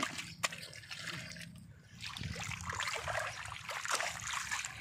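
A shallow stream trickles and gurgles faintly while a foot is pressed in to hold back the flow during fishing, soft uneven splashy sounds close by with no talking.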